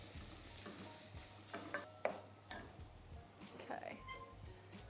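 Spring onions and Dijon mustard being stirred in a pan make a faint, close sound of scraping and light sizzling, with soft irregular clinks of the utensil.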